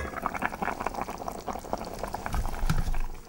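Tripe in white wine simmering in a pot, a busy bubbling and gurgling with irregular pops that swells a little toward the end, heard up close with no voices.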